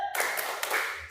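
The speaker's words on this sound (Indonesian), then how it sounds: "Tepuk semangat." Schoolchildren clap together in a spirit clap, a dense burst of many hands lasting about a second, loud and close in a classroom.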